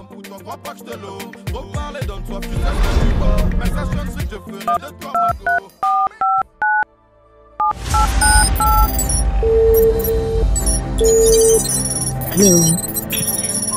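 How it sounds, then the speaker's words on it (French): A phone number being dialed, a quick run of about seven distinct keypad tones in a steady rhythm, close and clear, set between stretches of louder background music and sound effects. "décide ce jour de composer le numéro"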